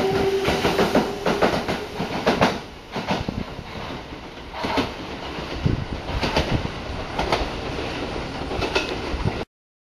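A Kintetsu express train pulls into Ise-Nakagawa station with loud rumbling, rhythmic clickety-clack of wheels over rail joints and faint wheel squeal, heard close with no talking.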